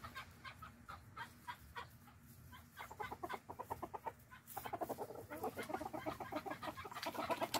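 Several chickens in a winter garden cluck on a sunny January day, let out after days shut in. The soft, scattered calls turn into quick, rhythmic clucking that grows denser and louder toward the end. No one talks.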